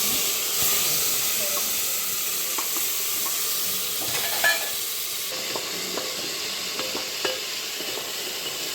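Mutton stew with chopped tomatoes, garlic and onions fries in a pan, a steady close sizzle and hiss with occasional stirring scrapes and small pops throughout.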